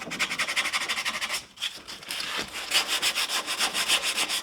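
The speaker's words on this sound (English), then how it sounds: "all I'll do right there is follow it up with some sandpaper" Steady back-and-forth rasping of sandpaper on a wooden scarf-joint guitar neck, rhythmic strokes close up, with a brief pause partway through before the scrubbing resumes.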